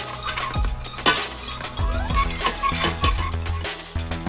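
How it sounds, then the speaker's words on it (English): Stirring tomato juice into a cooking pot while making tomato syrup: a few scraping, knocking strokes against the pot over a low steady background hum, close and moderately loud. "At 20 minutes, stir in the remaining juice."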